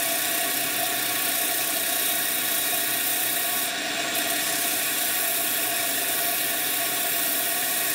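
A steady, continuous mechanical whir of a spinning head on a wheel while a bowl is shaped, with broadband rubbing under a constant drone that stays loud and unbroken throughout, without any talk.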